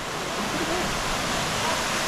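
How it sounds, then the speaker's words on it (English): A waterfall on the Road to Hana in Maui, heard as a steady, dense rush of falling water that stays constant and loud with no breaks. "Moving into the waterfall."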